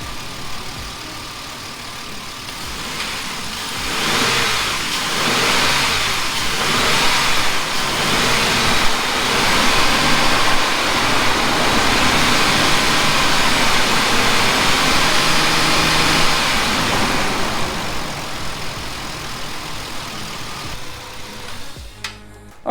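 A Ford Explorer engine runs steadily after a coolant system repair, a loud, close, even drone that swells slightly and holds, then cuts off abruptly near the end.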